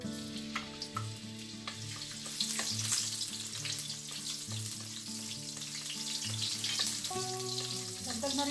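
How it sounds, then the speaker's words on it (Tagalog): Garlic sautéing in cooking oil in a preheated pan for ginataang langka, a continuous close sizzle with spatula stirring and clinks, while steady music plays underneath. "Isasawtay natin yung ating garlic."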